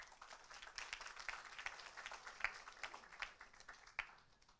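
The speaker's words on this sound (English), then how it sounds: "round of applause for them." Scattered applause from an audience at a retail industry business event, faint and distant, with sparse individual claps standing out over a soft wash of clapping.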